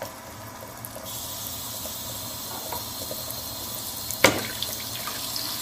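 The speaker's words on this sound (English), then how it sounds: "As you can see, the sink is being filled with water." Tap water runs steadily into a sink filling with water, a continuous hiss and splash with a brief sharp clatter or splash near the end.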